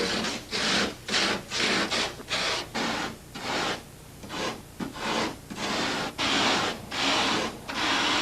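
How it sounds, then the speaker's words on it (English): Light polyurethane foam is carved into a miniature canyon cliff model for a film, with rhythmic rasping strokes of even length repeating close by and short pauses between them. "Greg has model maker Mike Hosh carve the rough structures of the canyon cliffs out of 8-foot pieces of foam."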